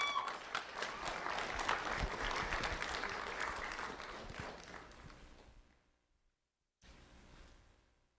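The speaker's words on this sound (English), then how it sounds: "Let's have a round of applause for Camden Murray." Applause from an award-ceremony audience for a student honoree at a county sheriff's office event, a steady patter of many hands that fades out, then a short quieter burst of clapping resumes near the end.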